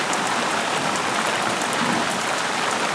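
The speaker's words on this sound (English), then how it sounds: "And it's gonna rain like this for a half hour." Heavy rain pouring down during a thunderstorm, a dense, steady hiss of drops hitting surfaces that stays loud and uniform throughout with no voices.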